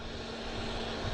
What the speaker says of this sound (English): We have American Airlines taking off here